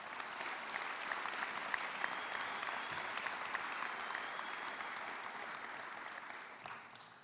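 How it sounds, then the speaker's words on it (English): A high school graduation audience at Northgate gives a big round of applause for faculty and staff, dense sustained clapping from a large crowd, steady and then tapering at the end. "let's please give a big round of applause to the Northgate faculty and staff"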